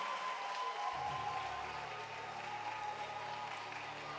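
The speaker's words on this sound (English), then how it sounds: "Can we applaud our graduates?" An audience applauds graduates at a preparatory school graduation ceremony: sustained dense clapping from a crowd, fairly loud and even over the whole stretch, with a brief quieter moment at the start.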